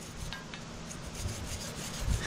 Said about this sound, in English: Do some scrubbage to it with the wire brush.